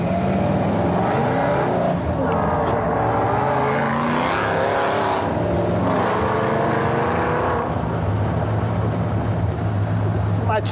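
A Ford hot rod engine with a cam revving loudly nearby, a rough, throbbing roar that rises and falls with voices talking over it.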